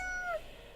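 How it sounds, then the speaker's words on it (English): A single short meow comes from a cat in the game Death and Taxes: a clear, rising-then-falling mew that stands alone and fades quickly. "Meow, she mutters"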